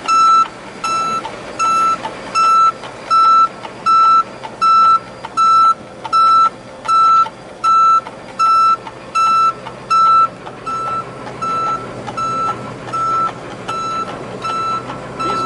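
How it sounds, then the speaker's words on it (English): A fire truck rumbles along while its reversing beeper sounds in steady, evenly spaced bursts through most of the ride, the beeping stopping near the end and leaving the engine drone alone. "We're on a fire truck."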